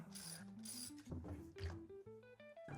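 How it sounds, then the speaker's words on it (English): A 10mm socket ratchet clicks quickly while backing out the bolts of the counterbalance weights on an LG front-load washer's front tub, giving short rapid bursts of clicking, close but quiet. "We're grabbing our 10mm socket and removing the counterbalance weights from the front tub."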